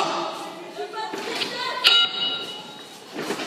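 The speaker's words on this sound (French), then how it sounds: "Mais ah, cessez de jouer avec cette sonnette" A desk bell is tapped once with a bright, sharp ding that rings briefly, amid background chatter and room noise at a French event.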